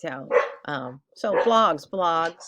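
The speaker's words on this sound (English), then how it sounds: "please excuse my dogs;" Excited dogs give several short, yipping barks in quick bursts, close and fairly loud, mixed in with a person talking.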